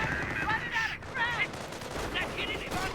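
Machine gun fire from a Company of Heroes battle, rapid bursts layered under battlefield noise and a voiced unit callout, continuous across the clip with no clear breaks.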